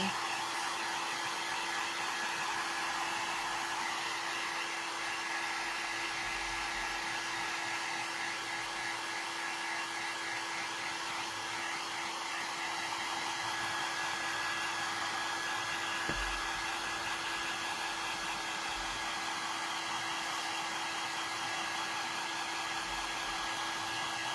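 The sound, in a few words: hair dryer drying a craft project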